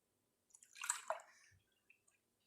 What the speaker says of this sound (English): I'm going to pour my milk into my microwave safe measuring cup.